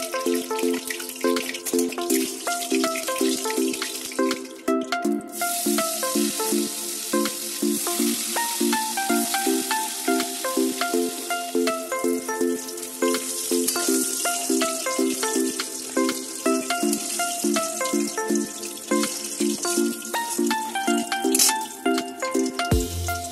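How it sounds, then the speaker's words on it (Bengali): Koi fish frying in hot oil in a pan for a Bengali curry, a steady loud sizzle and crackle running throughout with no talk, continuous for over twenty seconds. "চলুন মাছগুলো ভেজে নিই।"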